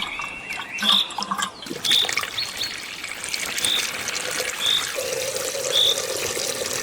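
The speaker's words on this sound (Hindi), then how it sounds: "फातिमा पौधों को पानी देती है।" Water runs and splashes steadily, like a stream poured from a can, while a bird chirps at regular intervals in the background.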